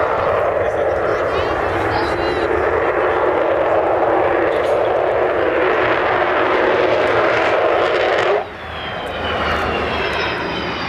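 Loud, steady roar of an Avro Vulcan jet bomber's engines building in power as it accelerates, broadband and continuous, dropping suddenly near the end before a quieter rumble resumes.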